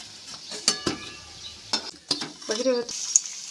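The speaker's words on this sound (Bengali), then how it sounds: "কোপ্তাগুলো একটা একটা করে উল্টে নিয়ে ভেজে নেব" Koftas fry in oil with a low background sizzle, punctuated by a few sharp clinks and scraping sounds of a utensil turning them in the pan.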